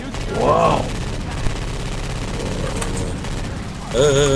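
Rapid gunfire from a modded gun in Left 4 Dead 2 on Expert difficulty, a dense continuous rattle of shots with someone talking over the start and end.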